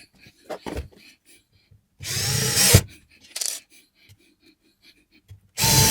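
Fixing screws are driven into a kitchen cabinet hinge in two short bursts, a loud whirring drive and a briefer one, set apart by quiet clicks and handling taps, with a final burst at the end.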